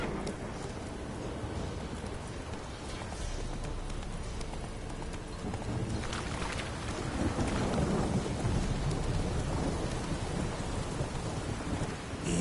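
Geralt's horse Roach from The Witcher 3 trots steadily with rhythmic clip-clop hoofbeats, heard through constant rain with rumbling thunder in the background.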